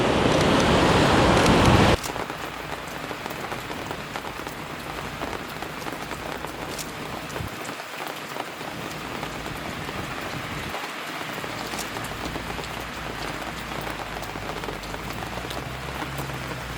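Steady rain falls across a Spanish street, a dense even hiss of drops on hard surfaces throughout, louder and brighter for the first two seconds, with no voices.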